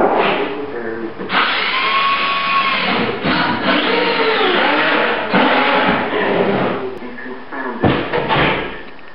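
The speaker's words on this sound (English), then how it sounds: "I'm drilling these holes because I want, when I put the screws in, I want it to pull up." A power drill bores holes in wood while a walk-in cupboard is built, its whine rising and falling in repeated bursts under nearby talking.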